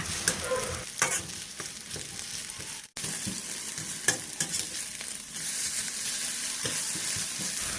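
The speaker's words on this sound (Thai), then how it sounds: "เราจะคั่วแบบนี้ไปเรื่อยๆนะคะ จนเขาแห้งเลยค่ะ" Okra and eggs stir-fry over medium heat in a pan, cooked until dry, giving a continuous close sizzle broken by repeated spatula scrapes and clanks, with a brief cutoff partway through.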